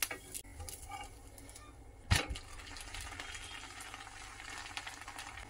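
Sweet dosa (amboli) batter frying in oil in a covered pan, a soft steady sizzle and crackle throughout with one brief louder clatter partway through.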